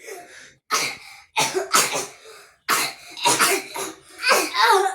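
A child coughs on request in a few short, loud bursts spread across a brief moment, close to the listener, with no talk in between.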